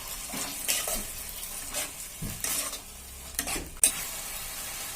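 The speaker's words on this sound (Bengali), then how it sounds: "এবারে ভালোভাবে নাড়াচাড়া করে নেব।" Chilli chicken with tomato sauce is stirred in a pan, close spatula scrapes and swishes over a low sizzle, ending in a sharp clink against the pan, with no talking.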